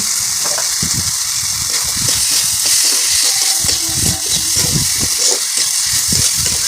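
Chilli, cumin and coriander powders sizzle and fry loudly in a pan while being stirred, a base for a chicken-scrap curry with Malabar spinach; steady hissing with scraping stir sounds throughout, no voices.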